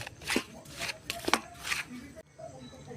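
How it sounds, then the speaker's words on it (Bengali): Atta flour dough is worked by hand with oil, making soft, irregular squishing and slapping sounds in a few close bursts before it goes quiet. "তেল দিয়ে এটা প্রথমে ভালো করে মাখিয়ে নেব"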